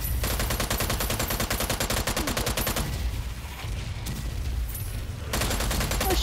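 Sustained rapid gunfire in Strange Brigade: a loud, continuous stream of automatic shots that briefly thins to scattered reports in the middle before the rapid fire resumes.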